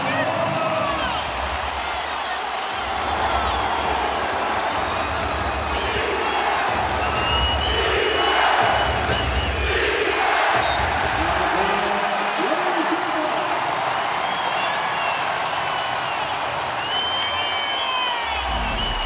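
A basketball arena crowd in Portland during a 2011 NBA playoff game, Mavericks at Trail Blazers: a loud, steady roar of cheering and applause that swells in the middle, with an announcer talking over it.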